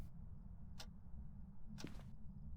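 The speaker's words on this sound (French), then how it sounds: "C'est perturbant la pendule qui fait du bruit là." A pendulum clock ticks in a video game, with a few sharp, evenly spaced clicks over a low, murky background drone. No one speaks.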